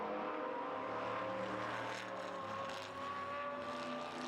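GT race cars, a Corvette among them, racing in a French GT championship; a continuous engine whine with layered tones from several cars, moderately distant and fairly even.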